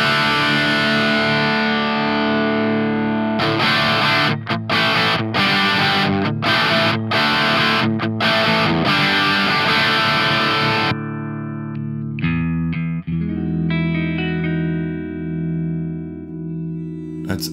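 Electric guitar played through a Two Notes ReVolt amp simulator on its KT88 tube setting, loud distorted chords and riffs with rhythmic muting, then sustained ringing notes fading out alone.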